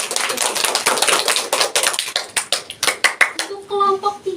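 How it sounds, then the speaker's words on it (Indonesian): Schoolchildren in a microteaching class clapping their hands on cue, a run of sharp distinct claps close by that thins into separate beats before a few voices take over near the end. "tepuk tangan"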